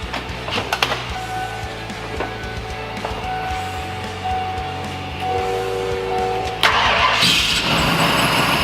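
A first-generation Ford Lightning pickup with a freshly fitted Vortech supercharger cranks over, then catches and fires up near the end into a louder, rougher running roar.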